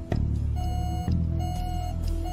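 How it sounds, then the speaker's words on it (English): A security alarm sounds in an office, giving steady electronic tones with a sustained pitch that stops twice for a moment. Dull low thuds come in under it. It is moderately loud and heard alone, with no voices. "That's a security alarm."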